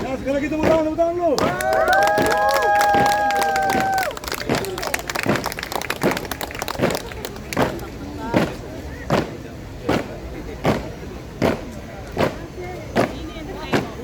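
Crowd applause at a Paskibraka flag-raising ceremony in Haji Adam Malik field, Pematang Siantar, carries on for fourteen seconds, with a horn-like tonal sound near the start and rhythmic beats cutting through the clapping.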